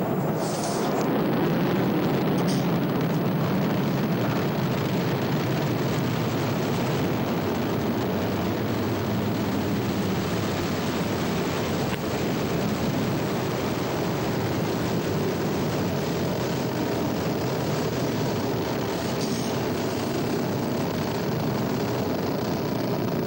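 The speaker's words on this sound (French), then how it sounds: "Le moteur Vulcain est en route. Les propulseurs d'appoint également. C'est la mise à feu." An Ariane 5 rocket launching as its Vulcain main engine and boosters ignite, a loud, continuous broadband roar that holds steady throughout with no speech.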